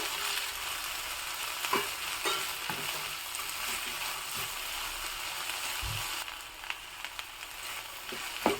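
Finely chopped okra, about a quarter kilo, fries with onion in a pan, giving a steady soft sizzle broken by scraping stirs and occasional clinks of the spoon, with no talk.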